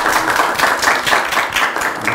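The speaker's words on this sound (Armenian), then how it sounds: "Ծափահարենք հարցին։" Studio audience on a quiz show bursts into dense, even applause, many hands clapping steadily and close for the whole stretch with no talking.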